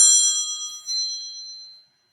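A phone notification chime sounds indoors: a bright, ringing ding, then a second tone just under a second later that trails off slowly, loud and close, with no talking.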